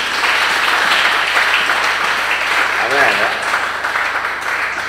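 Congregation applause during a church sermon, a sustained dense wash of clapping across the whole stretch, with a voice speaking over it partway through.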